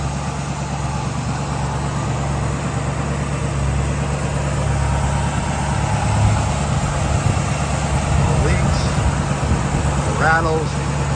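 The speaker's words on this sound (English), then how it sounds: "Very nice, smooth running engine." A 1964 Ford Ranchero engine idles smoothly with a steady low hum and faint lifter clicking, close by under a person talking.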